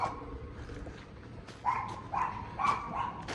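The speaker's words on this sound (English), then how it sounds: "you definitely got the little guard dogs barking" Small guard dogs barking at a distance along a Philadelphia graffiti spot, four short yappy barks spaced about half a second apart over low outdoor background noise.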